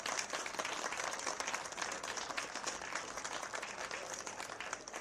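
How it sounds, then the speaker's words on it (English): A crowd applauds the golf championship finalists at the North and South Amateur at Pinehurst, with continuous, even clapping that sounds distant and faint throughout. "Let's give them a well-deserved round of applause for an outstanding week."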